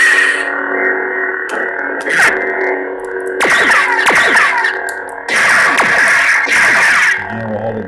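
Custom lightsaber with a Golden Harvest V3 soundboard, a distorted humming blade broken by several loud crackling flash-on-clash bursts in irregular succession. It sounds close and harsh, with no talking.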